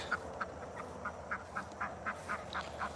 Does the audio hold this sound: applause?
no